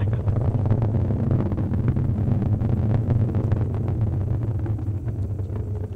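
A SpaceX Falcon 9 rocket climbing through transonic flight sends a deep, continuous low rumble with crackling texture and wind buffeting, steady and loud across the whole stretch.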